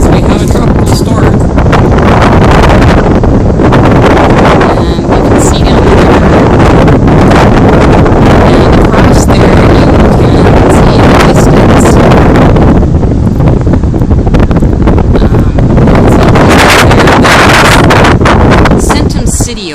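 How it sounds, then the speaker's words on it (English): Strong wind buffets the microphone ahead of a tropical storm, a loud constant roaring rumble by a river view while someone talks over it. "It's going to get windy because we have a tropical storm."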